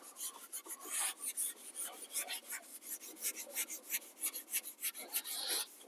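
WD-40 being rubbed onto a metal BRM grill, a steady rasping, scrubbing friction in quick back-and-forth strokes, close and fairly quiet, with no talking.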